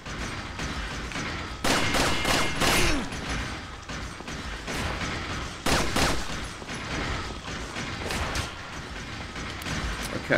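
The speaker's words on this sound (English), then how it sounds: "I just shoot him a few times." Gunfire in Resident Evil 4, a few sharp shots spaced out over a rumbling game background with mechanical clatter, loud and close, no talk.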